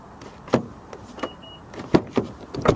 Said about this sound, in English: as soon as you touch the door handle, if it's locked, it will unlock for you